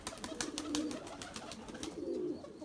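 Erzurum white breeding pigeons coo in low, throaty rolling calls, two distinct coos with faint tapping and rustling around them, quiet and close.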